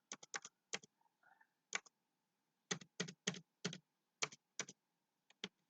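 Credit card details are typed on a computer keyboard in quiet, close keystrokes that come in short irregular bursts with brief pauses between groups.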